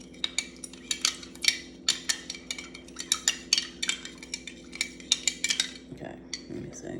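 A spoon stirs in a cup with grooved sides, clinking quickly and repeatedly in uneven bursts for about six seconds. The sound is close and fairly quiet and has no talk over it.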